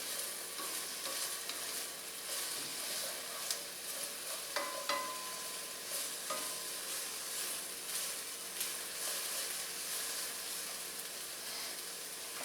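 Kung Pao chicken with slivered peppers stir-frying in a pan, steady close sizzle and hiss with occasional scrapes and clinks of a utensil as the food is tossed, no talking.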